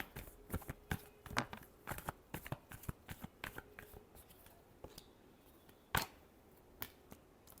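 Tarot cards being shuffled in a quiet room, a rapid run of crisp riffles and soft slaps with a sharper card snap near the end, close and alone with no talking.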